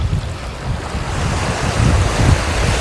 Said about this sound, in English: It's a wee splash for the waves and it loops in over your beach.